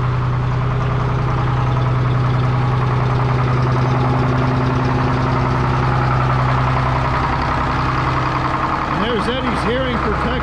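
Sawmill engine idling steadily, loud and close, with a low constant drone under a voice; near the end a rising whine suggests the hydraulics being engaged through the PTO.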